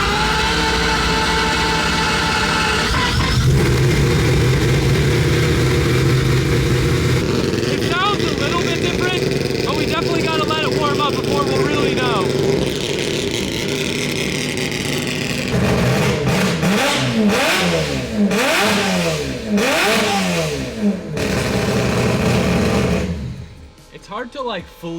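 A rotary-engined Toyota Supra revs freely inside a shop, loud buzzing engine notes climbing and falling, sharp repeated blips in the later part, and the engine cutting off at the end, with people talking between the revs.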